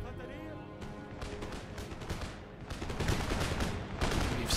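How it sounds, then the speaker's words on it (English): Enemy cannons and musketry fire across an Empire Total War battlefield, a dense rattling crackle of shots with heavier booms building toward the end, under a speaking voice. "Ooh, excellent shot by the enemy guns."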